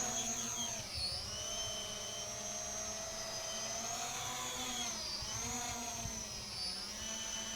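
Holy Stone HS440 foldable drone lifts off with a continuous high-pitched propeller whir, its pitch dipping and rising as it takes off and hovers, steady and close throughout.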